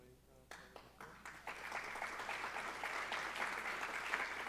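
Audience applause at an innovation week event at Universidad del Pacífico, beginning after a brief moment and swelling into sustained, dense clapping from a large crowd that continues to the end, fairly distant and moderate in level.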